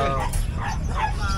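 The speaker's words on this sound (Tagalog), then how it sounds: "Tapos dito sa ilalim, meron tayong German short hair pointer." A German shorthaired pointer, a large-breed dog about eight months old at a pet market, lets out close, loud yips and whimpering barks over a steady busy background.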